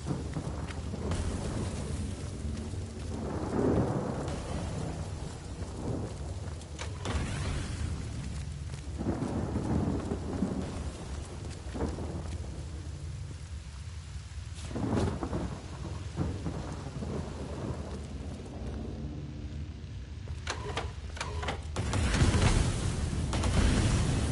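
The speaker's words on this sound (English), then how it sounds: "Water, rain down!" Rain and thunder summoned by a spell in the Divinity: Original Sin role-playing game: steady heavy rainfall hisses throughout while several deep thunder rumbles and cracks roll in at intervals, louder toward the end.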